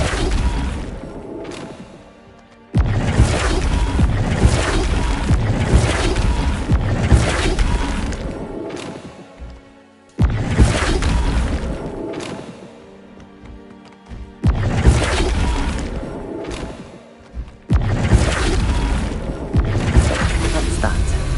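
Spell impacts from Hogwarts Legacy, a game, land as a series of loud booming, crashing bursts, each a few seconds long, separated by brief quieter gaps with faint talk in between.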